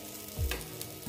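Brinjal slices dry-frying in a pan with no oil give a soft, steady crackle close by, with a couple of low bumps as the pieces are stirred or turned.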